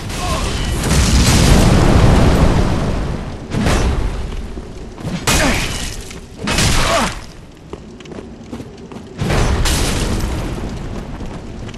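Heavy fiery blasts from a Gargoyle Flame Hammer in Dark Souls 3 PvP combat, loud booming bursts that come in several separate waves with roaring tails, alone.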